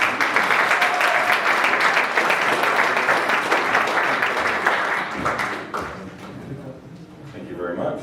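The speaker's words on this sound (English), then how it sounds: "So let's have a round of applause for our final speaker," A sales event audience in a London hotel applauds its final speaker, dense loud clapping that holds steady for several seconds and then thins out and fades toward the end.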